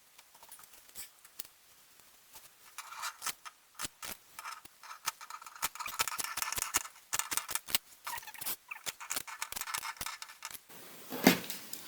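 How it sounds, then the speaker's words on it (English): Pinking shears snipping through skirt fabric, a long series of crisp, close cuts in an irregular rhythm that becomes denser toward the end, quiet with no talking. "I'm gonna use my pinking shears to cut this out."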